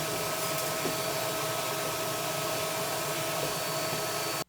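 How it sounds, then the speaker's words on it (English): A household vacuum cleaner pulls lint out of a clothes dryer vent, giving a steady, close, loud whine with a constant tone throughout, cutting off abruptly at the end. "I'm going to go ahead and get my vacuum, stick it in there, see what I can get out."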